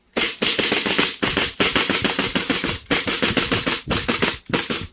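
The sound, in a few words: dry firing a CZ Shadow pistol with a steel hammer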